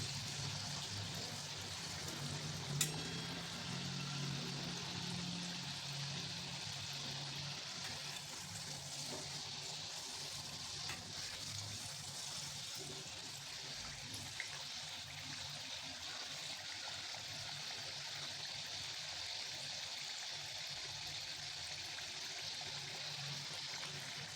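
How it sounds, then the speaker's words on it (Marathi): Shegaon kachori frying in hot oil as it is turned from side to side, a steady soft bubbling hiss running throughout with a couple of faint clicks, no talk. "आलटून पलटून दोन्ही साईडनी व्यवस्थित तळून घ्यायची चांगली"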